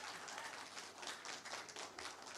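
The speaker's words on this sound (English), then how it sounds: "I appreciate the enthusiasm and wanting to applaud the speakers" An audience at a town board meeting applauds the speakers, a dense, steady wash of many hands clapping at a distance, continuous and fairly quiet throughout.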